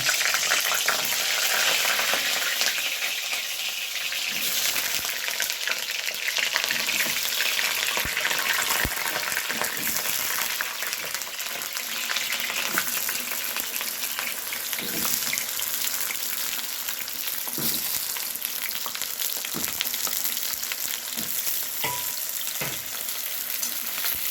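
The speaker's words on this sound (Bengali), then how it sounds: "তেলটা গরম হয়ে গেছে এবার আলুগুলো ভেজে তুলব" Potatoes fry in hot oil in a pan, a steady, dense sizzle and crackle that holds throughout at close range, with faint clinks of stirring and no talking.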